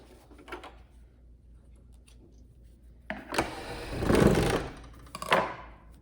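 Scissors snip thread loose from fabric just run through a sewing machine while piecing a log cabin pillow, a quiet lull followed by a couple of close, crisp cutting and rustling bursts.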